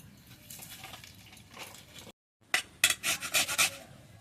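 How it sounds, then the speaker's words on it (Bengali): An onion being grated on a kitchen grater for egg curry, with soft rasping strokes that turn into louder, repeated scraping rubs after a brief pause, close and with no voices. "পেঁয়াজটা গ্রেটারে ভালোভাবে ঘষে নেবো"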